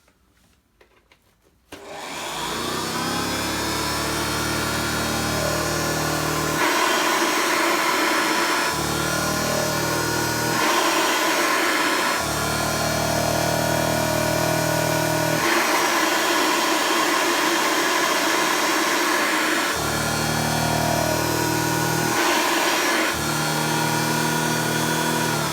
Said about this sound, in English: So the motor on it sounds very good.